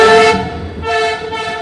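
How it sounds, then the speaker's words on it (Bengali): An Indian train sounds its horn while pulling into a station, a loud close blast followed by a second, slightly weaker toot after a brief dip. "এই যে চলে আসছে আমাদের ট্রেন"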